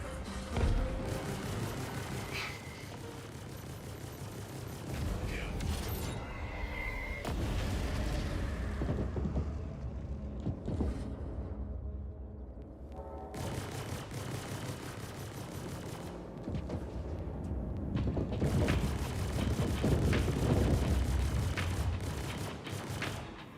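A spaceship in the Star Citizen video game takes weapons fire during PVP combat training, with dense continuous rumbling blasts and rattling impacts that swell and ease across the stretch, loud throughout with no talk.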